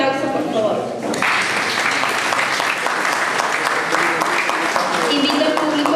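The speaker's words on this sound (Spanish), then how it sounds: "Un fuerte aplauso, por favor." Loud, dense applause from a lecture audience honoring a speaker after a talk, starting just after a brief voice and holding steady throughout.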